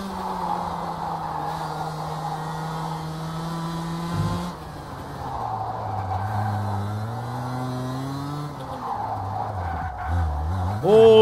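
Racing kart engine on a South African OKL Masters circuit, the driver blipping and feathering the throttle so the pitch dips and climbs repeatedly, a steady buzzing drone under a commentator's voice.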